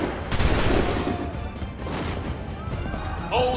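Volley of musket gunfire in Assassin's Creed 3, a loud crackling burst of shots with a clattering smash, mixed with battle noise and shouted voices.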